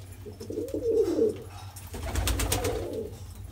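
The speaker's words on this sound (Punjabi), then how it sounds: "ਬਹੁਤ ਨਾਮ ਦਾ ਪੁਰਾਣਾ ਕਬੂਤਰ" An old, well-known pedigree pigeon coos softly nearby in two low, rolling phrases, with no talk over it.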